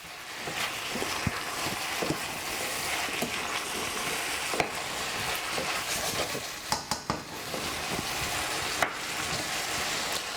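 Mushrooms and vegetables are stirred and fried in a pan for a meat-free dish, giving a steady, close sizzle throughout with scattered clinks and scrapes of a utensil against the pan.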